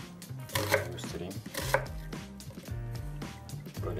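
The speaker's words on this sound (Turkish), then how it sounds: "Soğanlarımı her zamanki gibi yine iri kıyım doğrayacağım." A knife chops through an onion on a board in quick, uneven strokes, with a few sharper thuds, close up and clear.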